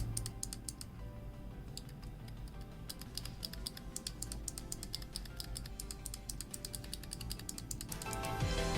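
Speed Bronze clicky key switches mounted in a hitbox controller are tapped rapidly, giving a dense run of crisp, close clicks that continues steadily for several seconds with a brief pause near the start.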